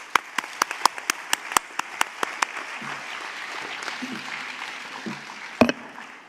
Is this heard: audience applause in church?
yes